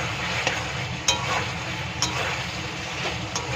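Pointed gourd and potato stir-fry in a pan for a vegetarian curry, giving a continuous sizzling hiss broken by a few sharp spatula taps and scrapes against the metal.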